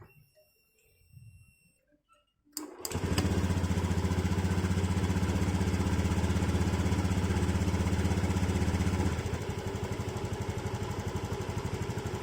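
A Honda Scoopy scooter engine, just fitted with a new filter, cranks and catches after a quiet moment, then settles into a loud, steady idle that drops slightly in level partway through.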